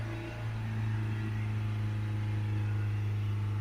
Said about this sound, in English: We'll accelerate it up to 3000 RPM.